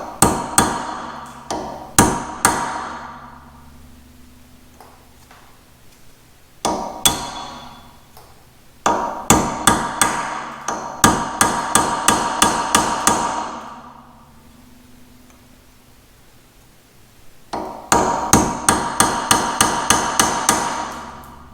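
Hammer blows on a chisel drive out the rear hub dust cap of an older Honda during wheel bearing work: loud, close metallic smacks in rapid bursts of several strikes, separated by brief pauses, with no talk.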